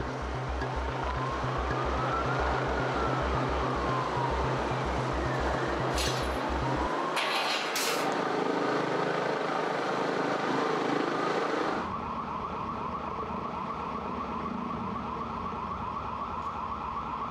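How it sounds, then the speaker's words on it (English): A wailing siren rises and falls in the distance over a rhythmic low thudding, like helicopter rotors, before the scene shifts to a steadier rumble. "woke up to sound of police sirens and helicopters thudding overhead"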